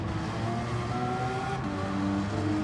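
Race car engine in Gran Turismo 7 dropping down to fourth gear, a steady droning engine tone with shifting pitch as it slows, loud and continuous with a faint hint of tire noise.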